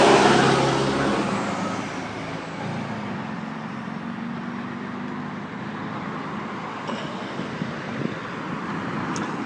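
City bus driving past houses on a residential street in Washington DC, a loud rumble close by at first that fades into steady traffic noise as it moves away.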